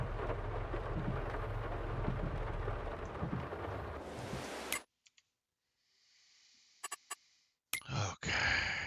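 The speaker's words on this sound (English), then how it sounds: "I'm just trying to waste a little bit of time so that the rain is a little closer to stopping" Rain falls as a dense, even hiss for about five seconds, then cuts out to near silence broken by a few clicks, a faint hum and a brief burst of noise near the end.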